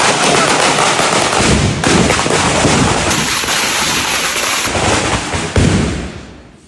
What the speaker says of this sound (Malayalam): നമ്മളിവിടെ വെടിയൊക്കെ പൊട്ടിച്ച് കയറ്റുവാണ് കേട്ടോ